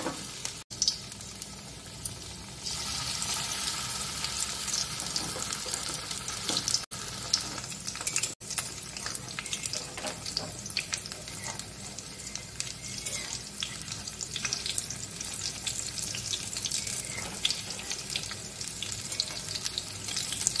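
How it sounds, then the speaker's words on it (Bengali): Banana flower fritters frying in hot white oil, a continuous dense sizzle and bubbling that runs steadily throughout, close and even, with a few brief clicks and no voices. "এবার আমি এক এক করে বড়াগুলো ভেজে নেব।"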